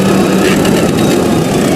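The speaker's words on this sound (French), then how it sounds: "Ce tracteur économique livre une performance constante sous une forte charge." Heavy YI IC 1404F tractor engine working hard under load while ploughing dry, hard soil, a loud, close, steady diesel roar with rough low rumble throughout and no voices.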